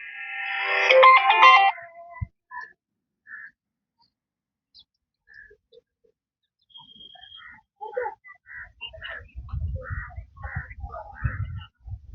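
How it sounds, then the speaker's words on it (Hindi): A phone rings during a Hindi storytelling talk, its bright warbling tone repeating loudly for a moment up close before fading into quiet, then low rumbling handling sounds and faint chirps follow. "तो अभी बीच में फ़ोन आ गया।"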